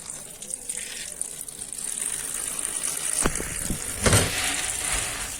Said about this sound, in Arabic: ننقعه كده في الميه